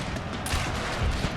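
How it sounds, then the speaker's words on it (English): Cavalry pistol volley in a Total War game set in the Thirty Years' War, a brief dense crackle of many overlapping shots, steady and loud over its whole short span. "General order to fire pistol."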